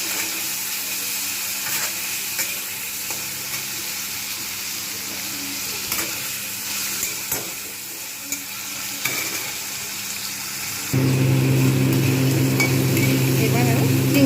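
Prawns frying in leftover oil for a potol chingri dalna: a continuous close sizzle and crackle with occasional small knocks, jumping noticeably louder and fuller toward the end.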